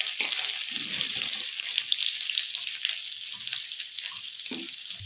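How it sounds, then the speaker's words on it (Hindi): Medium-sized potatoes fry in a small amount of oil for dhaba-style dum aloo, giving a steady, close, hissing sizzle throughout, with occasional soft stirring knocks underneath. "आलू को हम गोल्डन ब्राउन होने तक फ्राई करेंगे।"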